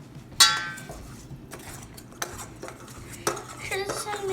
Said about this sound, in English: now let's stir.